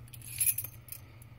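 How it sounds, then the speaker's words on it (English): Metal key blank slid into the clamp of a key cutting machine, a brief light metallic jingle and clink close up, with faint room noise and no talking. "this is a key blank, of course. It's going to go up in here."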